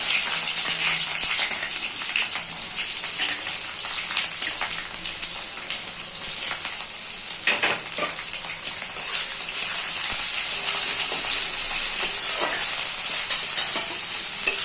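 Chopped onions frying in hot oil with garlic for a Bengali mushroom kosha, a steady loud continuous sizzle with occasional stirring scrapes throughout.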